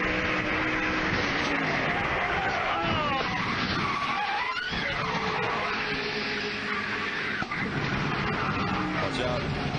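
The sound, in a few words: NASCAR truck skidding and spinning at Homestead Miami Speedway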